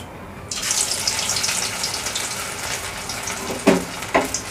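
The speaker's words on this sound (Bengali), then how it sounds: "তো একইভাবে সব পকোড়াগুলো আবার তেলে দিয়ে দিচ্ছি এবং একইবারের মতোই এগুলো আমি লাল লাল করে ভেজে নেব।" Bottle gourd leaf fritters (pakoras) sizzle steadily in hot oil as a fresh batch is added, a continuous bright crackle with a couple of louder splashing bursts near the end and no talking.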